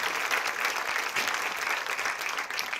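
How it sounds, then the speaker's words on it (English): Big round of applause from the crowd at a high school football game with a marching band, dense steady clapping that stays loud for the whole stretch. "Give them a big round of applause."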